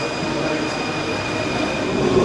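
A Paris Métro subway train runs steadily underground, with a continuous roar, high squealing wheel tones and faint clatter throughout, heard from inside the carriage.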